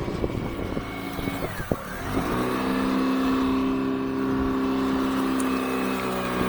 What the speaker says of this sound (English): I'm going to fire this up, so I'm going to put the power on it.